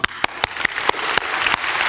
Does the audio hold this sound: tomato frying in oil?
no